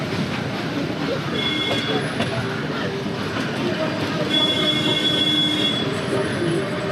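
Ooty toy train rolling past a closed railway level crossing, steady dense rumble of wheels on rails with thin high squeals rising and fading throughout, close and loud, with no talk.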